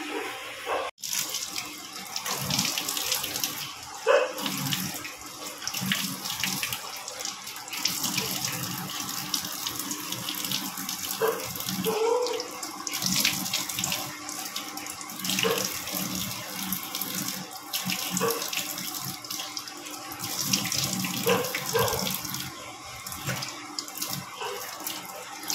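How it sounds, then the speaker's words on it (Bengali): Water from a household tap runs steadily into a sink while someone washes their face, with splashing and intermittent bursts as hands dip in and out of the flow. "এবার একটু মুখটা ধোবো।"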